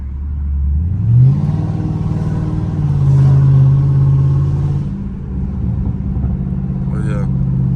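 A Dodge Challenger Scat Pack V8 revving hard and accelerating from a stop in traffic, its deep roar climbing in pitch, holding, then settling into a loud rumbling idle nearby.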